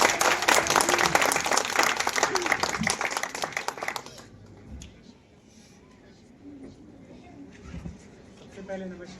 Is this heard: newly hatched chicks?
no